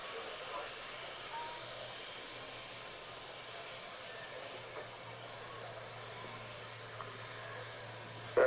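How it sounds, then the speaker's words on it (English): Jaguar jet aircraft taxiing on a runway, heard as a steady distant engine whine and broadband rumble that holds evenly throughout, faint and far off. "So the Jaguars taxiing back down the runway to return to their parking spaces."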